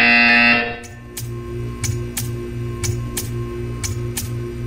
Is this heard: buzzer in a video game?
yes